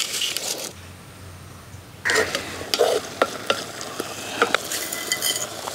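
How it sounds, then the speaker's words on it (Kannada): Fenugreek seeds are tempered in hot oil for a brinjal curd curry, giving a close sizzle with sharp stirring scrapes and clinks against the pan, briefly quieter near the start. "ಇದಕ್ಕೆ ಮೆಂತೆ ಒಗ್ಗರಣೆ."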